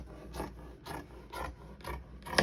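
Rotary cutter run along a clear 18-inch ruler through fabric, four or five rhythmic raspy strokes close by, evenly spaced, with no talking.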